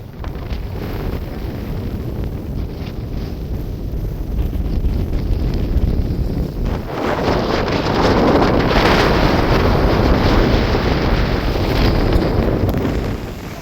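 Strong desert wind in Qatar buffets the microphone in a steady, loud roar, gusting harder in the second half, with no voices.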